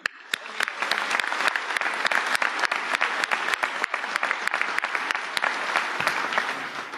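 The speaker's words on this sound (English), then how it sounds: "So a round of applause to them." Audience applause at the DEF CON 26 closing ceremony, a steady wash of many hands clapping at moderate volume, with sharp individual claps standing out throughout and no talk over it.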